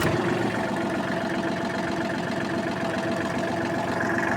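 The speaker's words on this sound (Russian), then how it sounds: "Заводим трактор." A Kubota GT23 mini tractor's engine runs at a steady, even idle, a close, continuous mechanical drone with a rapid pulsing rhythm and no talking.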